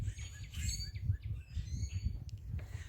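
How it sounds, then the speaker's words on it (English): Robins chirp outdoors in a faint background, scattered short tweets and calls over a low rumble of wind or traffic. "the robins are communicating through their different tweets"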